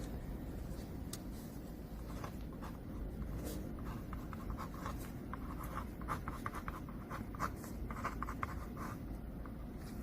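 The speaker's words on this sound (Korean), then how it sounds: "일반 볼펜처럼 잘 쓰여지고요" A promotional ballpoint pen with a fine tip writes on paper, giving quiet, continuous scratchy strokes with small ticks as it moves across the sheet, with no voices.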